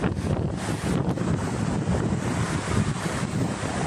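Steady broadband rushing of river water with wind buffeting the microphone, continuous and fairly loud, no voices.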